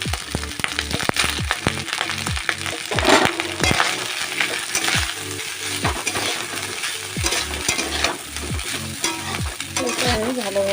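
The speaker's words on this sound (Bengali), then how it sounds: "এটা আমি ভালোভাবে মিশিয়ে নেব।" Cooked rice being stirred and tossed with a spatula in a hot pan for chicken fried rice, with repeated scraping clacks against the metal and a continuous sizzle throughout, close and fairly loud.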